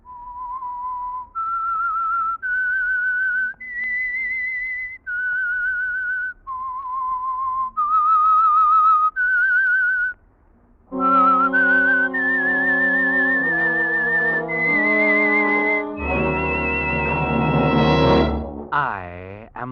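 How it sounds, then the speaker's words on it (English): A solitary whistled theme opens a 1940s radio mystery program, a rising and falling melody of clear, sustained notes, then joined by orchestral music swelling to a loud close. "That whistle is your signal for the Signal Oil program"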